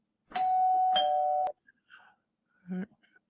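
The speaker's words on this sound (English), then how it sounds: "Why'd you ring the bell?" A doorbell rings with two bright chimes in quick succession, loud and close indoors, followed by a few faint, brief sounds and then quiet.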